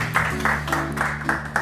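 Audience clapping to welcome a lecturer onto the stage at an astronomy talk, with a few rhythmic bursts of applause over a steady low hum in the hall.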